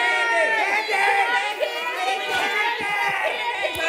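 Children cheering and shouting together as a crowd during a playful candidate vote at an elementary school event, a dense continuous burst of young voices.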